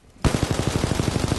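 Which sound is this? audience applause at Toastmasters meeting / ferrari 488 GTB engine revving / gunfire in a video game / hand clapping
gunfire in a video game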